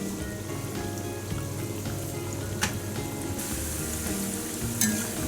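Wheat flour shakkarpara frying in oil over medium to low heat, a soft continuous sizzle and crackle with faint stirring clicks, steady and close, with no talk.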